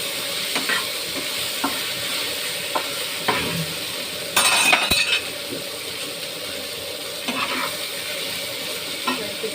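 Fish and spices sautéing in a pan with salt, cumin, chilli and coriander powder and a little sugar: a steady close sizzle with repeated scraping stirs and a brief metallic clink midway.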